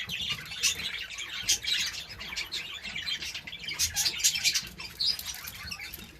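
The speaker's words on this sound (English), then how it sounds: "She's a beautiful budgie." A pale budgie chirps and tweets in a busy aviary, with dense high-pitched calls and wing flutters running continuously at moderate loudness throughout.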